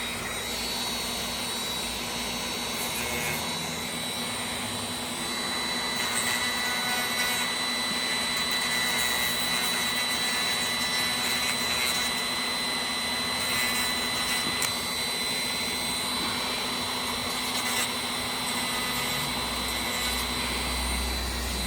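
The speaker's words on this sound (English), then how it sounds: "we're going to take our little grinder here, a little wheel, and we're just going to go ahead and we're going to turn this down" Small rotary grinder wheel steadily grinding down a metal lock pick, a loud continuous high whine with no breaks, nearby and alone without talk.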